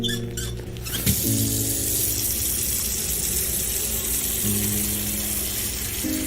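In Autopsy Simulator, water runs from a tap into a container with a steady gushing hiss, starting after a brief clatter and continuing evenly, with small tonal game sounds underneath.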